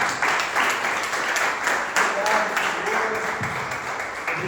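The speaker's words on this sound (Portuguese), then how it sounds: "Vamos aplaudir ao Senhor." A church congregation at a Sunday service claps steadily together in praise, a full room of hands applauding continuously at moderate loudness, with faint voices mixed in.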